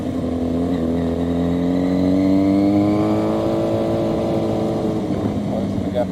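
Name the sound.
car driving and turning into the street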